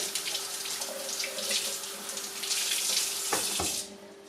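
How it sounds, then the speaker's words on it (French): Kitchen tap running as a dish towel is wetted under it, a steady close splash and hiss of water, with a couple of brief clunks near the end before the flow stops abruptly. "Je prends un torchon, je le mouille."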